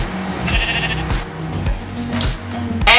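Sheep in the video game Minecraft bleating repeatedly, several wavering baa calls in a row, loud and close, with a brief chime-like game sound near the end and no speech.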